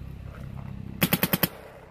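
A quick burst of five sharp shots from an Empire Axe paintball gun in rapid succession, close and punchy, over a low background hum.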